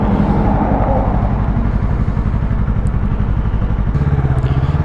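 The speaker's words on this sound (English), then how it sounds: "See how this bike does at the freeway." A Yamaha R3 motorcycle engine droning loudly and steadily while riding, with a dense rumbling pulse, wind buffeting and a brief shift in pitch near the end.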